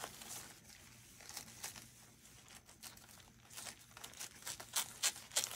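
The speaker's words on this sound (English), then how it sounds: "It's hard to cut these plastic bags" Scissors cut through a transparent plastic bag, giving faint, close crinkling and rustling with a few sharper snips near the end, quiet and with no talk.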